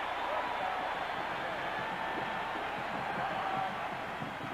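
Nebraska football stadium crowd at a 1985 game against Florida State, a broad steady roar of many voices swelling and holding, heard from a distance with faint murmur beneath.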